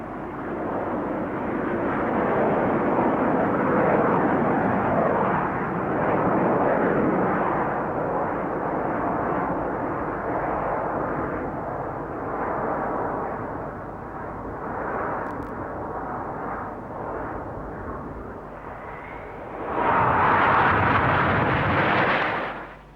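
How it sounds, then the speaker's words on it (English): Red Arrows BAe Hawk two-seat jet trainers from British Aerospace fly overhead, giving a sustained loud roaring rumble that holds for about twenty seconds and then swells into a brief, stronger blast near the end. "The 9 team pilots fly the red-painted Hawk, a 2-seat aeroplane designed by British Aerospace"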